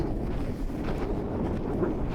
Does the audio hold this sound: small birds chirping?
no